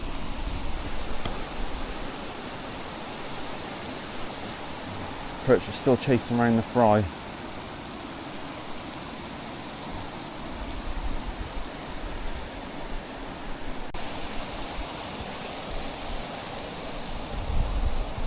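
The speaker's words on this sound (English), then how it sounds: "let this rain go over" Steady rain falls on a river weir pool, a continuous broad hiss with rushing water beneath, while someone talks briefly in the middle and otherwise stays quiet.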